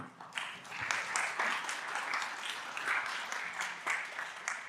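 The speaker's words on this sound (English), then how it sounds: "please welcome Martin Beránek with big applause" Audience applause welcoming a speaker to the stage at a tech conference talk on database resets, a dense, steady patter of many hands at moderate distance, quiet overall.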